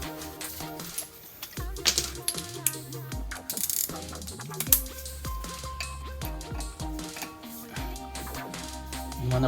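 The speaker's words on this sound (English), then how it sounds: "you need to remove the caliper set screw here" A ratchet clicks in irregular bursts of rapid pawl ticks and metallic clatter while loosening a Torx 30 caliper set screw on a Mercedes CLK 320 W209 during a brake job, up close.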